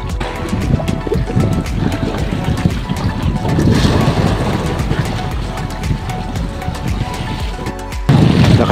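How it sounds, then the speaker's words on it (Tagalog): Strong wind buffets a small fishing boat at sea, a loud constant roar with thumping gusts on the microphone and hull or water noise beneath, continuing throughout with a sudden louder burst near the end. "Lakas ng hangin mga kachamba."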